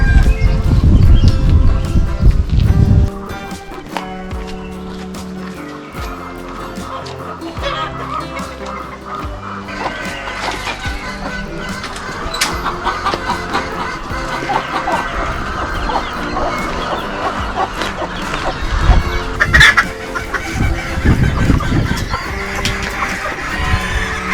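Village chickens clucking and squawking in a busy, continuous chorus, fairly close, with scattered louder calls and rustling throughout.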